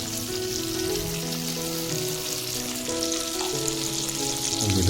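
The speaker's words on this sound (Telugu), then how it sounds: "ఈ విధంగా బాగా వేయించుకోవాలి." Sardine fish frying in a pan: a steady, close crackling sizzle that runs without a break, with faint lower hums beneath and no talk.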